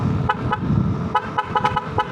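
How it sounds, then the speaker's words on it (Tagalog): A newly installed horn on a Yamaha Lexi 155 scooter gives a string of short, sharp beeps in uneven bursts over a low engine idle. "busina natin. Pakinggan nyo."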